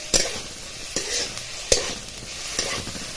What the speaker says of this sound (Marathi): आणि हे 2-4 मिनिटात हलवत राहायचे